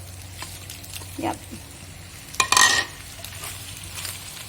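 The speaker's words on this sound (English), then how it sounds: "So just stir them together." Vegetables, broccoli among them, stirred with macaroni in a frying pan, giving a few scraping clinks and a brief sizzling burst, with a short spoken word.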